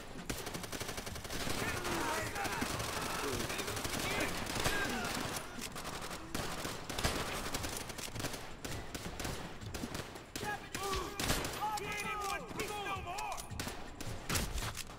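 Rapid bursts of rifle and machine-gun fire crackle almost nonstop in Call of Duty: World at War, with occasional heavier blasts, while voices shout over the gunfire.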